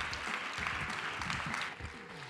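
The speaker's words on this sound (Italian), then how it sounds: "vi chiedo un grande applauso per i due relatori che hanno giocato con noi" A science festival audience in Rome claps for two presenters of a game-style tournament, continuous moderate applause filling the space, with faint murmured voices underneath.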